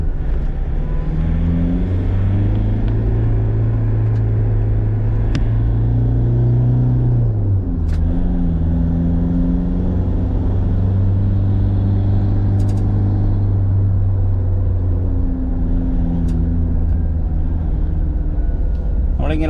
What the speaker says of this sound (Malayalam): ഓക്കെ, ഞാൻ വണ്ടി ഓടിച്ചു നോക്കട്ടെ